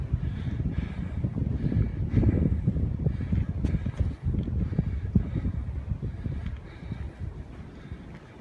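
Gusty wind buffeting a microphone at an Appalachian Trail shelter, a loud low rumble that swells and eases in irregular surges across the whole stretch.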